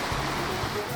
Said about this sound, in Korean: 봄 소식을 알리기라도 하려는 듯 바위 사이로 흐르는 물소리가 맑게 들립니다